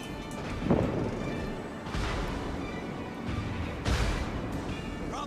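Naval gunfire in World of Warships, several heavy booming salvos spaced a second or two apart over a steady rumble of sea and engine noise, loud and close.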